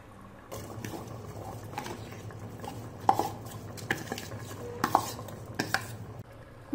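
Soaked seeraga samba rice tipped into a pot of mutton biryani and stirred, with a steady wet churning and several sharp metallic scrapes and clinks of the spoon against the pot, close and fairly loud.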